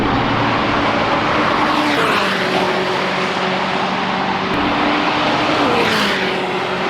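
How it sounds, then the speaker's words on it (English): A McLaren 600LT sports car on the Hungaroring race circuit sounds as a loud continuous engine roar, with pitch shifting up and down through gear changes as it drives past. "There goes the 600 LT"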